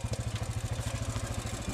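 A trial motorcycle revs hard on a rough trail, its engine throbbing in a rapid, steady rhythmic beat up close and loud.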